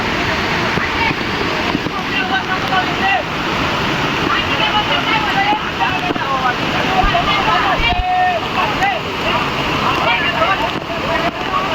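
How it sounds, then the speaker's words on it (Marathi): Heavy water roars continuously from close by at a waterfall near Nashik, a dense, steady rush with faint voices now and then underneath. "भरपूर पाण्याचा ताकदीने पाणी पडू राहिलं खालून."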